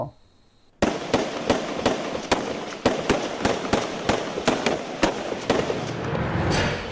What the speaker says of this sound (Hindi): दनादन गोलियां क्यों चला रहे हैं ये जवान